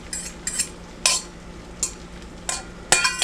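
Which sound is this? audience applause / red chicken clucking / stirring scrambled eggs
stirring scrambled eggs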